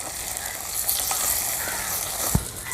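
Onions and tomatoes being stirred with rock salt in a clay pot while making village-style dry fish curry, a steady soft sizzle with scraping stir strokes and a brief louder knock near the end.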